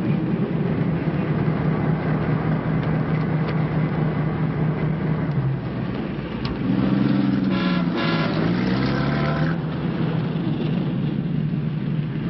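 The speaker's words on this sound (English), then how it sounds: "Bridge traffic, Horace." Car horns toot and honk amid steady bridge traffic noise, with a cluster of overlapping horn blasts near the end, set in a 1948 city street scene.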